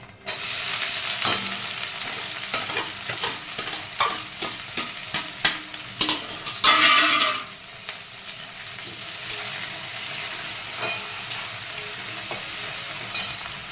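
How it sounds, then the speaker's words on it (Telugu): Tempering spices with green chillies, curry leaves and onions fry in oil, a continuous loud sizzle broken by frequent spatula stirs and scrapes, with a sudden burst of hissing midway as ingredients hit the hot pan. "పోపులు వేగిపోయి ఫ్రెండ్స్. ఇప్పుడు ఇందులోని పచ్చిమిరపకాయలు, కరివేపాకు,"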